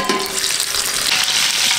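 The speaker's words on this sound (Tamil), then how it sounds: "இப்போ ஹாட்டாக போட்டு பொறிச்சு எடுத்துக்கலாம்." Goat boti stuffed inside mutton meat frying in a small amount of hot oil, a dense, close, steady sizzle with no voices.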